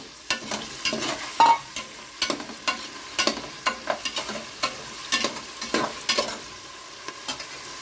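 Tomatoes and onions for mint pulao are sautéed in a pan, with a soft sizzle beneath quick, rhythmic scrapes of a spoon stirring them close up.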